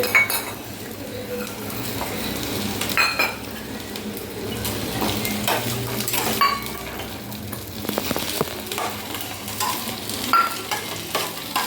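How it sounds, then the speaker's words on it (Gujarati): Dry fruits sauté in a pan for a party snack chaat, with a continuous sizzle and frequent scraping and clinking of a spoon stirring against the metal, close and fairly loud. "હવે બધા ડ્રાયફ્રૂટ નાખી દેવાના છે આપણે."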